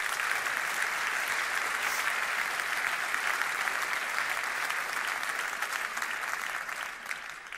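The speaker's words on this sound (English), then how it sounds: "A big applause" Sustained applause from an audience at a university Dies Natalis ceremony, dense and even, tapering slightly at the very end with no talking over it.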